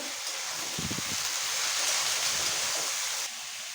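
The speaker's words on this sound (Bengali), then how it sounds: "এবার এই মাছের তেলগুলো এখানটা দিয়ে দেবো দিয়ে মাছের তেলের সঙ্গে বেগুনটা ভেজে নেব" Eggplant and onion fry in fish oil in a pan, a steady, close hiss of sizzling with a few soft knocks of stirring partway through.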